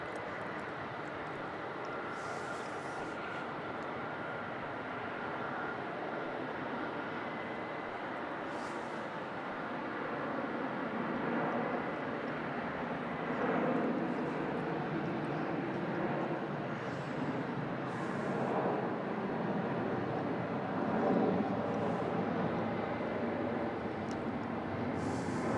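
A jet airliner departs Melbourne Airport at night bound for Brisbane, its throaty engine roar a steady, fairly distant rumble that swells slightly midway and holds for the whole stretch without voices.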